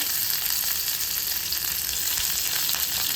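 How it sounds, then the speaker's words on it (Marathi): Sliced onions, about four to five medium ones, and tomatoes fry in oil with a steady, loud, even sizzle that holds without pause and with no voice over it. "आता तेलावरती छान भाजून घ्यायचं आपल्याला"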